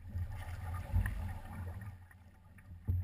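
Paddles work the water beside a big canoe, producing soft, close splashes and gurgles in an uneven stroke rhythm over a low rumble, with no one talking.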